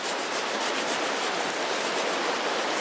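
At a campsite, a stick scrapes big chunks of residue off a cast iron pan with a continuous, close, gritty rasping that holds a fairly even level throughout.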